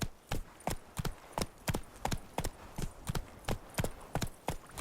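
Hooves of Roach, the horse in The Witcher 3: Wild Hunt, clip-clop in a quick, regular galloping rhythm, each strike crisp and close, continuing steadily with no other sounds competing.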